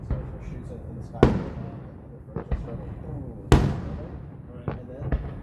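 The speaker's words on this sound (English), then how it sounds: "Heard that whistling? It's a fireworks." Fireworks rocket launched into the sky outdoors on a windy night, two sharp loud bangs about two seconds apart with crackling decay, over steady wind noise and faint background voices.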